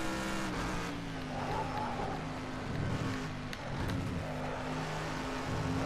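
A race car engine in a racing video game drones and revs at moderate volume, pitch rising and dipping as it climbs a hill and the automatic gearbox shifts, with road noise throughout.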